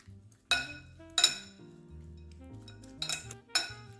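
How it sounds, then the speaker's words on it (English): A cucumber and carrot salad tossed in a bowl, giving four sharp utensil clinks against the dish in separate bursts, close by, with quiet low rumbling between them. "what I'm gonna do is add in my carrots. Give this a toss."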